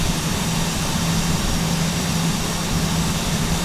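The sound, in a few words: aircraft on approach to Zurich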